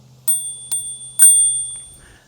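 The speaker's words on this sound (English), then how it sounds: "It's got a little bell." A small bell on a mini bike rings three times in quick succession, bright and close, each ding sustaining briefly before fading, with a faint hum underneath.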